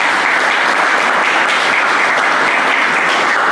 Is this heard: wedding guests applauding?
yes